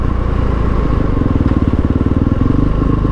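A 2008 Husqvarna SMR 510 supermoto motorcycle engine runs steadily close by, a loud, rapid, throbbing single-cylinder pulse that holds even throughout.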